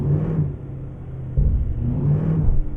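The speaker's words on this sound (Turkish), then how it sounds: "Yalnız çok manyak sesi yok mu arabanın ya?" A deep Mercedes truck engine in Euro Truck Simulator 2 rumbles steadily, revving up briefly midway and again near the end, with a low growling hum.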